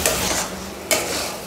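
Masala with Kashmiri chili powder is stirred and fried in a pan, giving close scraping strokes of a utensil against metal in two sweeps over a soft sizzle.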